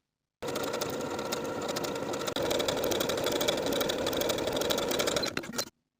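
A sewing machine runs a medium-length zigzag stitch along the raw edge of a T-shirt sleeve hem, giving a steady, fast mechanical whirr for about five seconds with a small hitch partway through.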